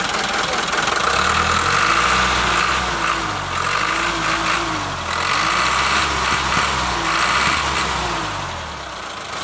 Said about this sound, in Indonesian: Mesin masih bagus, sudah turbo.